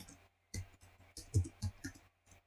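A computer mouse clicks several times in quick, irregular succession, the sharp clicks close and clear against near silence.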